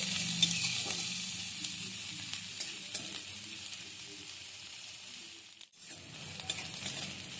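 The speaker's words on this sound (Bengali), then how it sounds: "এগুলোকে আমি ভেজে নিয়েছি" Chopped onions and green chillies fry steadily in a pan over a medium gas flame, a continuous close sizzle with occasional stirring scrapes, no voices present.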